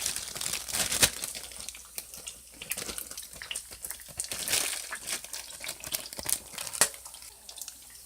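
Plastic bag crinkling as cut peppers are bagged in a kitchen, a quiet run of irregular rustles and sharp crackles with soft handling noise between them.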